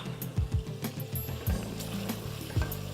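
Tomato paste and fresh tomatoes stirred into meat cooking in a pot, a steady sizzle with soft scraping and stirring pulses throughout, fairly close and moderate in level.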